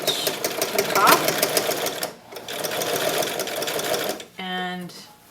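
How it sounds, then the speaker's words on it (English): A sewing machine stitches both fabric layers of a fitted skirt, a loud, close, rapid mechanical whirr that runs steadily, pauses briefly, then resumes. A person speaks near the end. "and I'm just sewing both layers"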